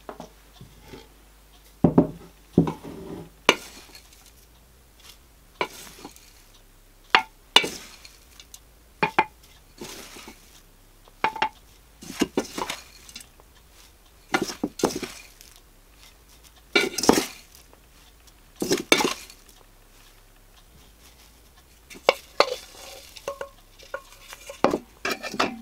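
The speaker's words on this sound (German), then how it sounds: "diese 2 Stücke werde ich jetzt in einen neuen Topf einpflanzen" Jewel orchid (Ludisia discolor) cuttings are planted into a new pot, giving quiet, scattered bursts of scraping, rustling and light clinks separated by near silence, with no talk.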